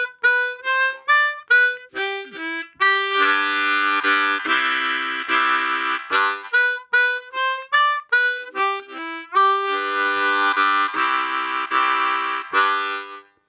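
Blues harmonica played slowly, mixing full chords with single-note melody lines in a clear rhythmic pattern, loud and close with no talking.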